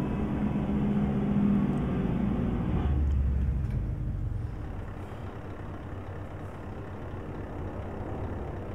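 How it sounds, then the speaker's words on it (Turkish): In Euro Truck Simulator 2, a Scania R420 truck engine rumbles low, then the engine brake cuts in with a deeper drone before the engine noise drops to a steadier, quieter hum. "Bu da motor freni."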